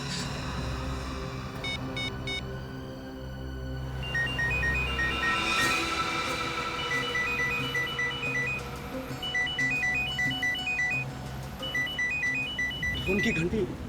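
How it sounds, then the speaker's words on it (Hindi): A phone's electronic ringtone chirps in repeated bursts, moderately loud, under a background of overlapping voices and room noise. "उनकी घंटी सुनाई दे रही है ना?"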